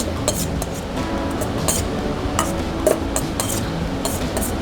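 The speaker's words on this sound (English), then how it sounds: "Give that a stir, evenly coated" Watercress salad tossed with dressing in a bowl, a steady soft clinking and scraping of utensils, with small sharp chinks at intervals over a low kitchen hum.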